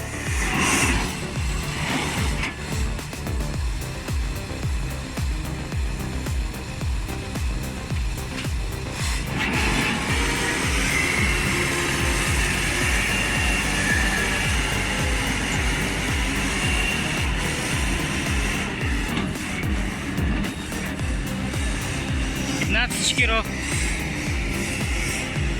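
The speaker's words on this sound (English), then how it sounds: "The V8 engine hums with confidence," A Scania R580 V8 logging truck hauling timber holds a loud, steady engine drone with rhythmic pulsing and shifting load over about twenty-five seconds of driving, with a voice speaking over it.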